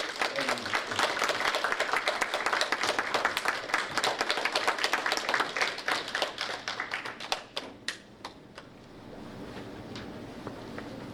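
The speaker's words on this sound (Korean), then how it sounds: "박수로" Audience at a tea culture academic conference applauds to welcome a professor, dense clapping that thins into scattered individual claps before fading out.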